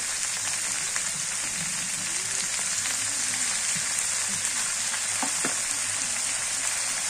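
Garlic and cumin spice paste frying steadily in a pan, a continuous loud hiss and sizzle with occasional soft clinks and stirring scrapes throughout, no voices.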